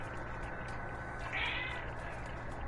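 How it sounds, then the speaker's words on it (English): A pet cat meows once, fairly close, over a steady hum of background noise from a Madden 23 football game session. "Oh, my cat wants to leave."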